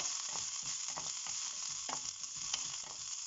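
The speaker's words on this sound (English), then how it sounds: "let them fry for 1 minute" Green chilli and cumin frying in a spoonful of oil in a pan, giving a quiet, steady sizzle with light scattered pops and stirring taps, close and without any talk.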